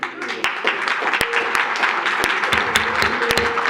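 Applause from the public at a Royal Oak planning commission meeting, a moderately loud scatter of clapping with some sharp individual claps, mixed with murmuring voices in the room.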